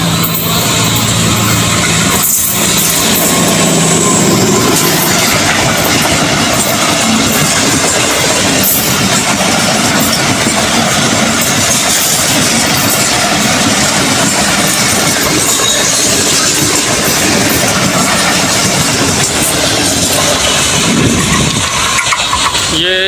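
A train passing through New Multan station in Pakistan: a loud, continuous roar of rolling wheels and engine close by, steady throughout with only slight swells.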